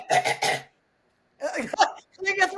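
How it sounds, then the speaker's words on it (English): A group of people clear their throats in two rough, close bursts separated by a second of silence, with a third rasp trailing at the end. "Clear your throat, everybody."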